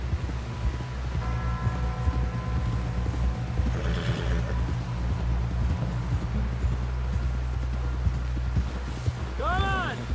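Horse hooves clip-clopping steadily in Red Dead Redemption 2 over a constant low ambient bed, with a short neigh near the end.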